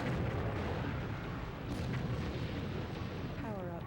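Gas station blowing up in the N64 game BattleTanx, a dense, continuous rumbling roar of explosion that stays loud throughout, with a brief higher warbling effect near the end.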